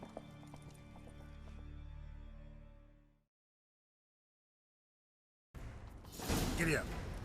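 Hooves of a horse in The Witcher 3: Wild Hunt clip-clop in a steady galloping rhythm, then cut to silence before a burst of noisy rushing movement returns.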